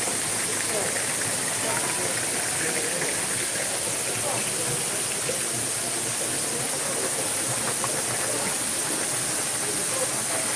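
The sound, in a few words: Kanto Lampo waterfall in Bali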